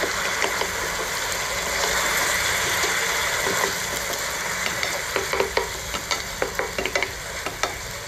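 Chicken cooking in a pan for pininyahang manok as pineapple chunks go in, a continuous sizzle with a run of sharp taps and clatters from stirring toward the end, close and without talk.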